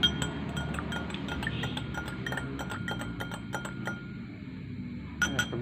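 Light, repeated clinks of stirring Pertamax gasoline in a glass container during a chemistry experiment. The irregular glassy taps ring over a low background hum, with a sharper cluster of clinks near the end.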